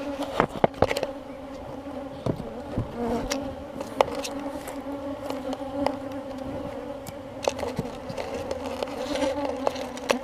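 Honey bees buzz at an open hive in a close, continuous drone with steady hum and occasional louder passes as individual insects fly near.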